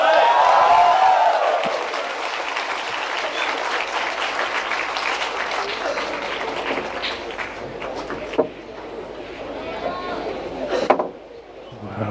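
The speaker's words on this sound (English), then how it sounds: "It's a big cheer coming." A large crowd cheers and applauds loudly at a men's 10-ball world championship pool match, a dense roar that swells at first then holds steady, with a commentator's voice speaking over it and a few sharp knocks near the end.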